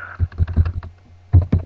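Keys clacking on a computer keyboard as a folder name is typed, a quick burst of close, dry taps, a brief pause, then a few more strokes.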